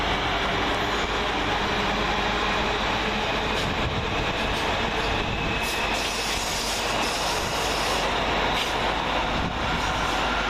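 London Northwestern Railway Class 350 electric multiple units, 350-113, 350-102 and 350-101, working a Northampton to London Euston service and departing on the far side of Milton Keynes Central station, make a steady, continuous rumble and roar of rolling stock that holds throughout.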